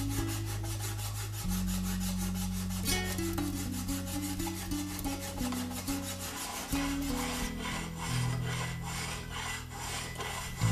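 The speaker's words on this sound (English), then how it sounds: "And now move over to a much finer file." A fine file rasps across a tipped hand plane blade during sharpening, making steady back-and-forth strokes in a quick, even rhythm beneath continuous background music.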